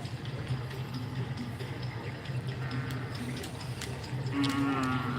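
Cattle low repeatedly at a Karapan Sapi bull race event, with sustained bovine moos over a busy outdoor crowd murmur, the loudest call near the end.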